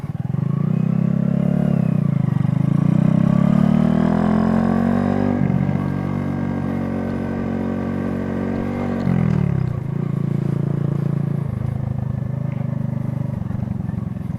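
A motorcycle rides through traffic, its engine droning loud and close and rising in pitch as it pulls away, then dropping and revving up again.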